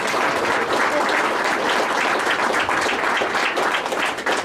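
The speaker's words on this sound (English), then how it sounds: "Give them a round of applause." An audience at a mayoral candidate forum applauds, a dense steady wash of many hands clapping at close range for several seconds.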